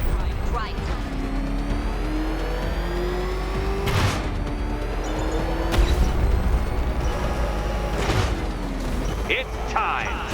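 The Batmobile drives in Batman: Arkham Knight, its engine droning and shifting pitch with sharp bursts and surges, loud and close, while voices talk over it.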